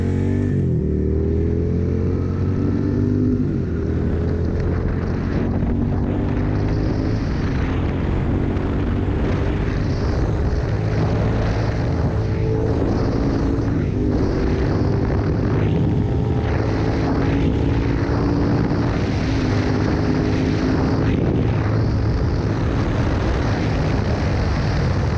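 A Suzuki SV650 motorcycle engine revs up and pulls hard through the gears while riding, rising pitch repeating, loud and steady with wind rush throughout.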